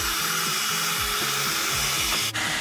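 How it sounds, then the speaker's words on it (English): A hair dryer on its middle heat setting blows steadily and loudly while drying a fringe of bangs, a continuous broadband rush with a low motor drone that briefly dips near the end. "Try ko i-blow dry yung cute kong bangs"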